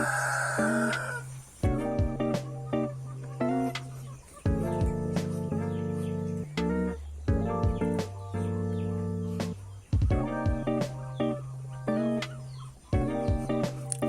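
Chickens clucking around a coop on a farm where chicks are raised, with repeated short rhythmic clucks and calls from several birds close by, a brief higher call at the start, and no talk.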